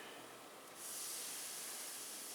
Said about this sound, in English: if you heard that sizzle. The water's kind of dancing around